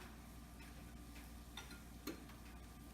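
Eggs and tuna being stirred in a frying pan for a tuna omelette, with a soft, steady sizzle underneath and a few faint scraping strokes of the utensil, including one slightly louder clack near the end.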